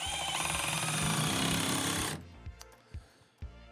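A power drill whirs loudly and continuously for about two seconds, then stops, followed by a few sharp knocks and clatters.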